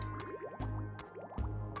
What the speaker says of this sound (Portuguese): Vou botar uma água aqui.